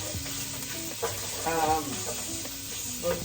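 Sausage sizzles in a pan over medium heat, a dense steady crackle with scraping stirs rising and falling, close and fairly loud.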